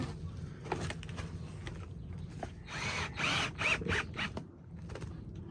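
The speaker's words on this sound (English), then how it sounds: "So I'm screwing that so it's onto that one" Screws drive a panel onto a poly tunnel in the Algarve: a few short whirring bursts from a screwdriver, fairly faint, over a low steady outdoor background.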